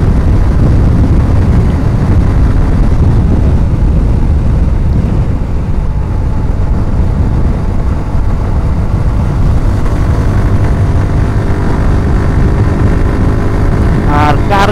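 A motorcycle cruising at about 92 km/h on a fast highway, with steady, loud, close engine roar and buffeting wind noise for the whole stretch, and a rider's voice partly under it.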